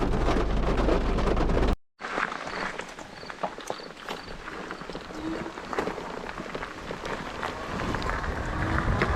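Steady rain falls outdoors on a foggy day, a broad even wash of patter after a brief cut near the start, with scattered louder drops and light knocks or steps mixed in.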